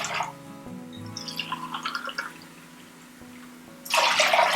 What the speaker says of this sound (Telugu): ఇప్పుడు 6 గ్లాసుల వాటర్ యాడ్ చేయాలి